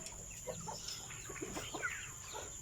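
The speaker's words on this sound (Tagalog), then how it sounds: "Yung mga manok natin mga farmers, ito sila, hindi to mga native dito sa Pilipinas, mga oriental breed sila" Oriental breed broiler chickens at 48 days old clucking on a farm, a series of soft scattered clucks and short calls, fairly faint over a steady background hum.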